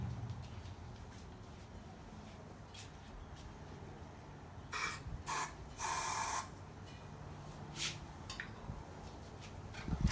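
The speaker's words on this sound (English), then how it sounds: "spray some carby cleaner down the carburetor here" Carburetor cleaner sprayed down the carburetor of a small engine that won't start, coming as a few short hissing bursts and one longer spray over quiet background, close and fairly faint.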